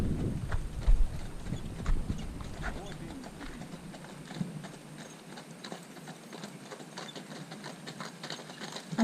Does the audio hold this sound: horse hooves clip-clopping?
yes